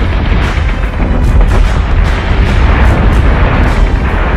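Warship battery fire and explosions in the space combat game Battlestar Galactica Deadlock, a dense, loud continuous barrage of booms and bursts rolling together without pause.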